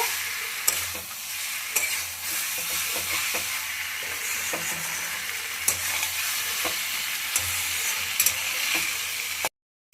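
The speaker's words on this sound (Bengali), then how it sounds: "এবার এটা খুব ভালোভাবে আমি মশলার সাথে আলু ফুলকপিটা ভেজে নিচ্ছি।" Potato and cauliflower pieces fry with spices in a pan, giving a continuous quiet sizzle broken by repeated scraping knocks of stirring, up close, then a sudden cut to silence near the end.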